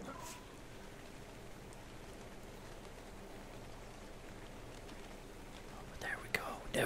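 Rain falls steadily in the video game ARK Survival, a continuous soft hiss that holds evenly throughout, with a brief cluster of louder clatters near the end.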